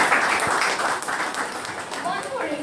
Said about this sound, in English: Let's clap our hands for